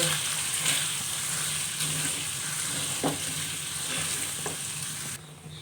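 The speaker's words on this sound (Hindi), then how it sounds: "अब हम इसमें प्याज ऐड कर देंगे तले हुए, और अच्छी तरह से इसको भी मिक्स कर लेंगे।" Minced mutton and fried onions sizzle steadily in a hot pan, with a few soft scrapes of stirring breaking through the constant frying hiss, close and alone until it cuts off near the end.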